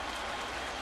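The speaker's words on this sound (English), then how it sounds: "Crowd on its feet." A baseball stadium crowd at a Yankees home game against the Blue Jays cheers on its feet, a dense, steady roar of applause and shouting that fills the whole moment.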